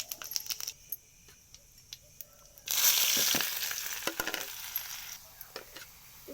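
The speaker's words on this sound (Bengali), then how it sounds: "তেল গরম হয়ে গেছে, দিয়ে দিচ্ছি ফুটন।" Whole spices drop into hot oil and burst into a sharp sizzle partway through, after quiet clinks and taps; the hiss then fades gradually, and no one speaks.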